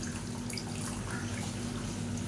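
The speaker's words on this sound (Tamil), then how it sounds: "இப்போ இதில் தேவையான அளவுக்கு புளி தண்ணியும் கரைச்சி ஊற்றிக்கலாம்" Tamarind water is poured into a simmering lentil-ball curry, giving a steady, close gush of liquid that runs unbroken from start to finish, without speech.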